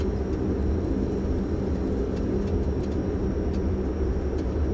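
A Dash 8 turboprop airliner taxis, its engines giving a steady, even drone with a faint high whine, heard from close by and unbroken throughout.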